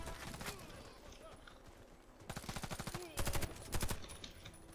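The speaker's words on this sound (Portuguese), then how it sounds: "Olha aí, eu atirando no cara que já tá morto" Gunfire in the shooter game Warface: several rapid automatic bursts of shots, loud and close, breaking out over continuous background noise, with a voice talking in between.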